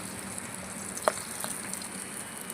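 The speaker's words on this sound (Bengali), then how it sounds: "মাছগুলো ভাজা হয়ে গেছে এই একটা একটা করে তুলি" Glass cup fish frying in hot oil as the pieces are lifted out, a low steady sizzle with one sharp clink near the middle, no talking.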